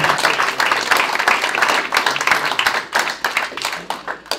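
An audience at a Le Wagon Lyon app demo day claps steadily, the applause dense and fairly loud throughout, with individual hand claps standing out from the crowd.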